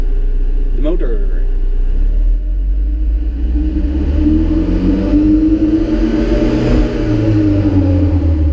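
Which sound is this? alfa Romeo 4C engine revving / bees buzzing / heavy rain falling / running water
alfa Romeo 4C engine revving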